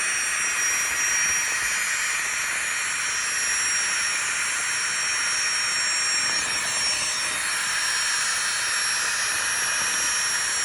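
A small electric air pump inflates a camping mat with a steady, close, high-pitched whirring hiss that runs without a break.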